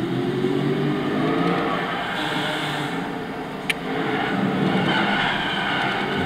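A Spyker C8 Laviolette with a 4.2-litre 40-valve V8 in Gran Turismo 6 roars loudly and steadily, engine note holding through a sharp click partway in, with a faint skid-like hiss over the top.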